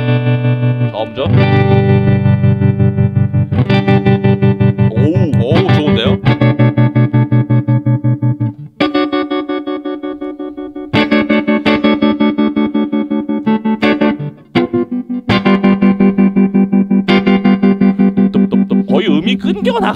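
Electric guitar chords played through a Mad Professor Mellow Yellow tremolo pedal with its depth raised at a fast speed, loud and sustained, with several short breaks between strummed passages and a pulsing swell to the tone.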